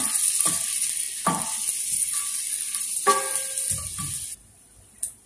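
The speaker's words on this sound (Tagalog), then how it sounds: "Nagpainit na ako ng mantika. Lagay na po natin yung sibuyas." Chopped onions sizzle in hot cooking oil at the start of a pinakbet, a steady close frying hiss with a few soft clinks and stirring sounds. The hiss cuts off partway through, followed by a short sharp burst.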